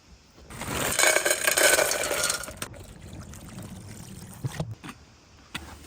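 Water poured into a camp cooking pot on a river paddling trip, a brief splashing pour that fades into a faint trickle and light clinks, with outdoor ambience behind it.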